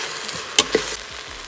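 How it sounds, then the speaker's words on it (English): Onions fry in a stainless steel Instant Pot with a steady low sizzle, broken by two brief sharp scraping clicks of a utensil against the pot, with no talking. "Cook for a few minutes till the onions turn golden in color."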